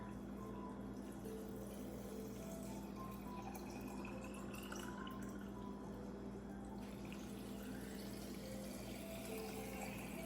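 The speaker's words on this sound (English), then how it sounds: "And now you are just going to fill them up with water." Water runs steadily into jars for pine soda, a faint continuous rush with a low steady hum underneath and no voices.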